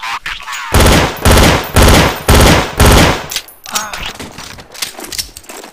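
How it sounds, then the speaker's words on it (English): TMP submachine gun fired in Counter-Strike: Source, a rapid run of loud, sharp bursts in quick succession, then fading to quieter scattered shots and game noise. "I like the TMP because it sounds like a laser"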